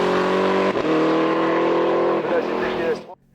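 A powerful Ginetta race car roars along a circuit, engine note sustained and loud with shifts in pitch as it passes, fading out abruptly at the end.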